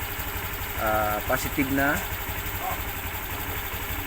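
Honda Click V2 motorcycle engine idling with its positive battery terminal disconnected, a steady low mechanical hum running the whole time beneath someone talking close by.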